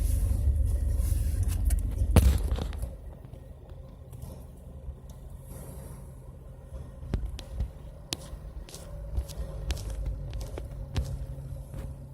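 Cabin of a moving car, with a steady low road rumble and engine hum throughout and scattered small knocks and thumps from inside, with no one talking.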